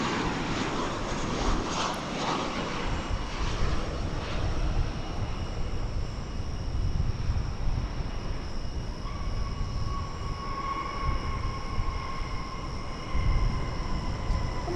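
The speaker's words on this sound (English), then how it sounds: "from Los Angeles right now. (737-800). It's American flight." An American Airlines Boeing 737-800 jet arriving from Los Angeles at DFW airport, a steady moderate jet engine roar with broad rumble and a faint whine, continuous and alone.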